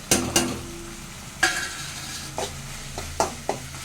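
A spoon stirs soft, well-cooked tomato rice in a pot, making several quick scrapes and clanks against the metal over a faint background sizzle.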